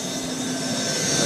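A 1940s Eureka Roto Matic Model 800 vacuum cleaner, over 65 years old and with complaining bearings, runs close and loud with a steady whining motor roar and bright high hum, no speech.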